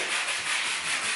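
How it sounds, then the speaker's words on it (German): Small wooden door-frame beams are sanded with a steady, continuous rubbing hiss that stays close and even, with no talking. "schleift hier gerade die kleinen Balken"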